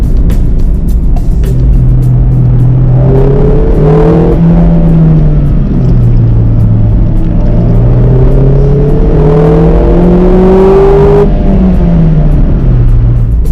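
A 2016 Mazda MX-5 engine revs up and down through the gears, its loud induction tone rising and falling continuously, close and unbroken.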